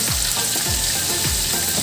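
Prawns lightly fried in a pan give a steady, close sizzle and hiss that fills the whole stretch, broken by a few soft low stirring knocks.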